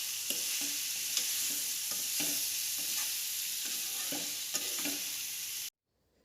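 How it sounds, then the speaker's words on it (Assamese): Jackfruit flower frying with salt, turmeric, cumin and coriander, a steady bright sizzle broken by regular scraping stirs of a spatula in the pan, close and without talk, ending abruptly in silence. "অকণমান নিমখ দিছোঁ, অকণমান হালধি দিছোঁ, জিৰা ধনিয়া গুড়ি অকণ মিলাই দিছোঁ।"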